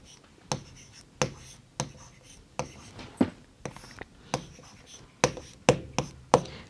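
Chalk or marker writing on a classroom board during a primary maths lesson, sharp clicking taps and short scratchy strokes in an irregular rhythm, close and fairly loud with no talking.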